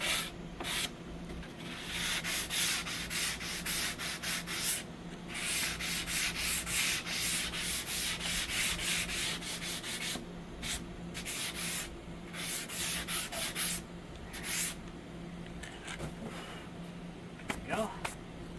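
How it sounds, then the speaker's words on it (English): Steady back-and-forth scraping of a hand sanding block on a surface during a solar power system build, with rhythmic strokes that pause briefly between passes, close and fairly loud, while people talk intermittently in the background. "you need the sanding block"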